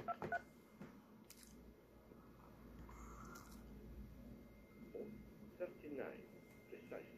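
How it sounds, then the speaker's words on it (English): Touch-tone dialing beeps from a Mitel IP desk phone, several short tones scattered across the clip, fairly faint under background noise. "You can dial 9 for a line, dial out somewhere."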